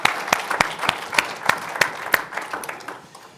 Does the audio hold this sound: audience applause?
yes